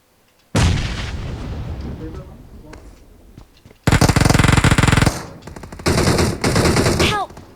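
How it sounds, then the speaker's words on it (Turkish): Video game combat with a bomb explosion followed by sustained bursts of gunfire and artillery-like blasts, loud and close, with players talking over parts of it. "Oha bombayı kim attı lan?"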